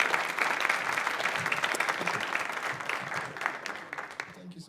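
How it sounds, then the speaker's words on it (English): Audience applause after a talk in the tech track at BSides Amsterdam 2025, a steady crowd clapping that holds across the clip and thins slightly toward the end. "Please give him a round of applause."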